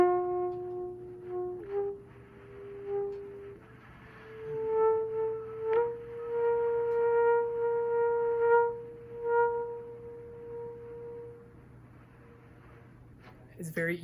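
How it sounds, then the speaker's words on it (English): Very soft, breathy whisper tones on a double-bell quarter-tone trumpet with little solid pitch, held and shifting through several quiet notes, then fading into near silence at the end. "Whisper tones are a way of creating a very soft dynamic on the instrument."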